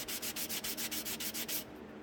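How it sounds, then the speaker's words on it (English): A sanding block rubs back and forth over a repaired hard car body, about ten steady rhythmic strokes close up, then stopping. "you keep your sanding block spread out over top of the surface"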